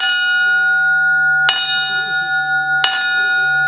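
The bright metal bell of a 1922 fire truck is struck twice, each clang ringing out and lingering with a long, sustained shimmering tone between strikes.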